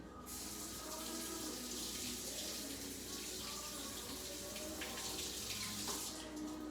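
Running tap water pours steadily into a sink as a handful of carrot greens is rinsed underneath, a constant close splashing rush that lasts throughout without any talking.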